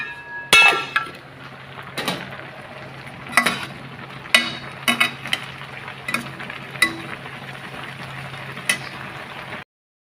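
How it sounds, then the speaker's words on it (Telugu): Cumin, chana dal and mustard seeds are tempered in hot oil for a radish-greens and tomato dish, giving a soft steady sizzle punctuated by several sharp clinks and stirring knocks of a utensil against the pan. "ఇక్కడైతే తాలింపు అయితే పెట్టుకున్నామండి, ముల్లంగికి అనమాట."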